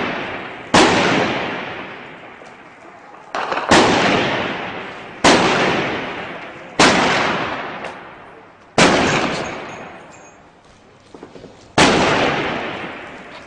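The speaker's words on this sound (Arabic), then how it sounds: "اطلاق نار كثيف على الحي." Heavy gunfire and shelling on the Kharm Al Zeitoun neighborhood of Homs, Syria: six loud, booming blasts, each with a long echoing decay, spaced a few seconds apart.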